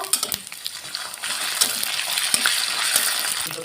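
Ginger, garlic and garam masala paste frying with browned onions in a pan, a steady close sizzle with scattered crackles and light clinks, no voices.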